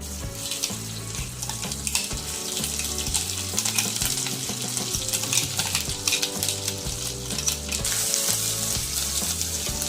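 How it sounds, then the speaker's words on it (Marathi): Ground masala paste sputters and sizzles loudly in hot oil tempered with curry leaves, for a drumstick vegetable curry, a dense continuous crackle with bubbling pops throughout, close and steady with no speech. "कढीपत्ता कडल्याच्या नंतर आपण तयार केलेलं वाटण या फोडणीमध्ये घालून घ्या"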